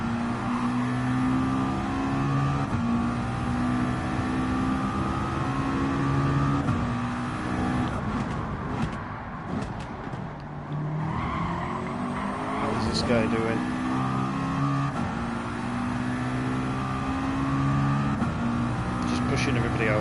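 GT3 race car engines in the Gran Turismo 7 game, with a McLaren among the field: steady high revving and shifting drones from several cars, close and continuous, with someone commentating throughout.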